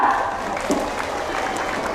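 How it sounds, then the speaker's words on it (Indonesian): Applause from students at a Monday school flag ceremony, a soft, distant patter of clapping that holds steady over the full stretch, with a murmur of voices underneath. "Tepuk tangan untuk kita semua."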